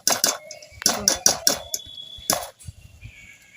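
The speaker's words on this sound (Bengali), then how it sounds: "কতটা মুচমুচে হয়েছে, আওয়াজটা শুনুন।" Crispy fried potato pakoras are broken and bitten close up, producing a series of sharp, loud crunches in an uneven rhythm, with brief quiet gaps between them.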